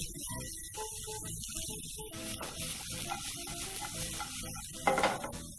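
Chopped garlic and onion sizzle in a pan, a moderate crackling fry with stirring and tossing scrapes, plus a brief louder clatter near the end.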